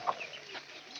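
A single short cluck from a farm chicken, close and fairly clear, over soft background noise with no talking.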